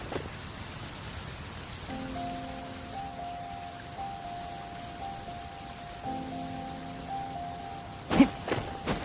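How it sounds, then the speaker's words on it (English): Steady rain falls across a scene in Genshin Impact, a broad even hiss throughout, with game tones chiming in the middle and a few sharper louder hits near the end. "I'm used to the rain, but you should probably use an umbrella."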